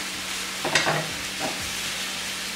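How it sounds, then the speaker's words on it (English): Ground beef sizzles in a pan while seasoning is stirred in and the meat is broken up, a steady frying hiss broken by two short scraping stirs of a utensil, close by, with no talking. "I'm just mixing the seasoning into the ground beef as it's cooking and breaking it up at the same time."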